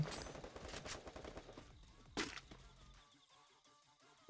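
Gunfire from a firefight in Free Fire rattles in quick bursts early on, fairly faint and distant, then thins out into a few scattered shots.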